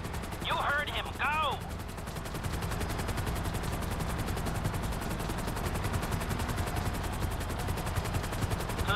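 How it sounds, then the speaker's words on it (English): A helicopter in Grand Theft Auto V beats with a steady, rhythmic rotor chop that fills the whole stretch, with a few brief chirping sounds near the start. "I'm bringing the chopper back around."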